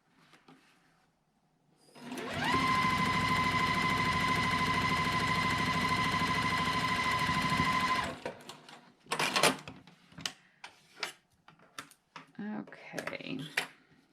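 A sewing machine stitches two quilt block pieces together in one loud continuous run of about six seconds, followed by scattered clicks and handling sounds of the fabric.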